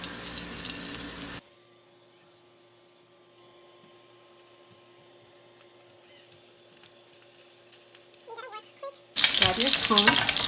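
Shrimp frying in a skillet give a loud, bright sizzle in two bursts at the start and end, with a quiet stretch of low hum and faint crackle between them.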